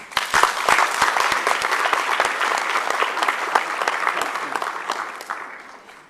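An audience at a Rotary club gathering claps to welcome a speaker, a full, steady round of applause that holds strong before tapering off at the end.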